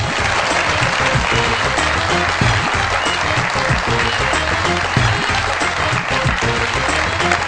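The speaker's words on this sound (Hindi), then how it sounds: "आप सब लोगों की बहुत सारी तालियों में" Studio audience on a Pakistani TV comedy talk show applauds steadily to welcome a political guest, a dense, loud, continuous wash of clapping that holds without pause from start to finish.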